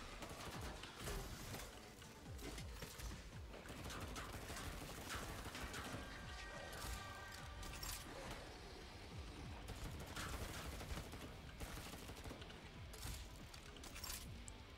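Suppressed medic weapon firing in Killing Floor 2, a long run of rapid, muffled shots with metallic clicks and clinks, fairly quiet and continuous, with no talking.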